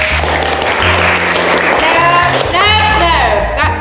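Clapping in a physical theatre performance, rhythmic claps mixed with music and a voice over the top, close and fairly loud.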